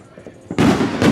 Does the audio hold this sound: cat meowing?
no